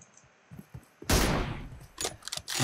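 Gunfire in a tactical shooter played in a Turkmen tournament match: one loud burst erupts and crackles for a moment, followed by sharper repeated shots, with quiet clicks and movement beforehand.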